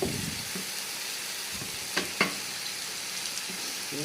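Onion, garlic, chilli and soaked moong dal sizzle in a pan as a steady, close frying hiss, with a couple of sharp clicks from stirring partway through and no voices.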